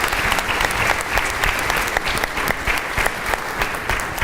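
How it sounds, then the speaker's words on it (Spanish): Audience in a church gathering in Mexico applauding for a priest, steady loud clapping from many hands filling the room throughout, with no talking. "Un aplauso al Padre Fede, siempre sabio y compartiéndonos su mirada"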